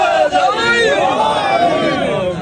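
A large audience at a Shia majlis chants a religious slogan together, loud and continuous, a roaring mass of voices rising and falling in unison.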